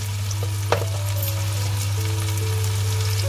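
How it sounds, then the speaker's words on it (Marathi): Onion and tomato masala sautéing in a home-kitchen pan, a steady close sizzle with a few stirring scrapes and one brief clink, no voices. "हे बघा आपला कांदा टमाटर चांगला परतून घेतलेला आहे"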